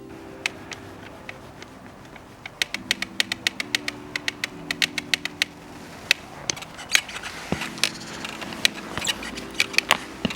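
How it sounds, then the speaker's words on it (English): Sharp irregular cracks and ticks from a Kaabo Mantis Pro 10 electric scooter frame, sparse at first then coming in quick clusters, over a steady low hum; no talking. "that noise is actually the cracking somewhere in the scooter"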